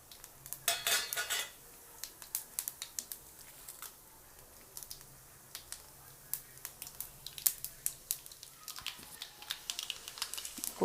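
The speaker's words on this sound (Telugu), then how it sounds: "దీంట్లో పోపు దినుసులు వేసుకోండి." Whole spices tempering in hot oil in a pan for Telugu tomato rasam, giving a fairly quiet run of small scattered crackles, ticks and pops at close range, with no talking.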